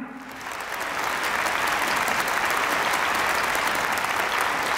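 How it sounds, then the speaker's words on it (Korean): An audience at a lecture forum breaks into applause after a brief quiet moment, and the clapping quickly builds to a steady, full roar that carries on to the end. "다시 한번 감사의 박수를 드립니다"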